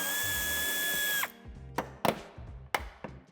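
A power tool works a side screw on the bumper of a 2021 Nissan Qashqai J12, a steady whirring drive for over a second that stops abruptly, followed by a few short bursts and clicks close by.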